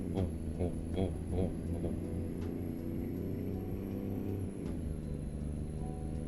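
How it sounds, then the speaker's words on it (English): A heavy truck engine idles in the American Truck Simulator video game, giving a deep, booming low rumble with a few rhythmic pulses early on, then settling into a steady drone, heard alone without speech. "whenever it's idle and you can hear it going boom"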